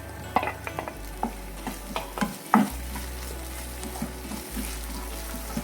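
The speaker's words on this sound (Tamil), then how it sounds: "இஞ்சி பூண்டு பேஸ்ட் நல்லா வதங்கினதும் அது கூடவே தக்காளி ஆட் பண்ணிக்கலாம்" Ginger garlic paste and tomato sautéing in a pan for a squid fry, with a steady close sizzle broken by repeated scraping stirs and a low hum underneath, no talking.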